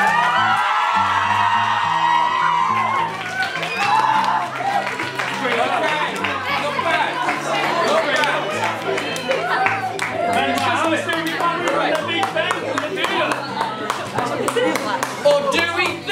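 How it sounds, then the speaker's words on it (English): A Science Week demolition show crowd claps and cheers with scattered whoops, mixed with lively chatter and a voice that starts loud over the opening seconds before the noise turns busy. "let's have a round of applause and cheers!"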